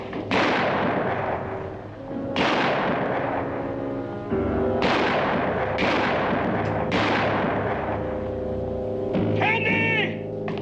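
Gunshots ring out during a jailhouse escape shootout in an old Western setting: several loud, sharp reports spaced a second or two apart, each trailing a long echoing decay, with a voice and shouts mixed in.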